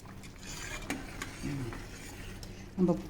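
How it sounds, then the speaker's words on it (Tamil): Spoon scraping and clinking against a pot as thick, simmering Indian halibut fish curry is stirred, a few soft scrapes and a louder knock near the end. "இன்னும் கொஞ்சம் கொதிக்கட்டும். இதை நம்ம கிண்டி பார்க்கலாம்."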